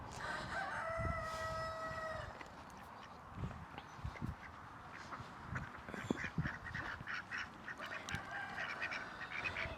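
Ducks quack repeatedly on a small integrated farm, mixed with a rooster crowing and other fowl calling, a busy overlapping chorus of birds at moderate distance with no talking.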